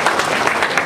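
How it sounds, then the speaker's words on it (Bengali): Audience applause at a bank fair event in Khulna, a brief even wash of many hands clapping, fairly loud and close. "আমরা করতালি দিয়ে ওনাকে আবার সমর্থন জানাই"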